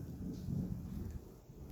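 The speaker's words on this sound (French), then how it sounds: "ça sera une vidéo avec l'orage" Distant thunder from a thunderstorm rumbles low and soft, a faint rolling grumble with a little rain or wind hiss, heard alone without talking.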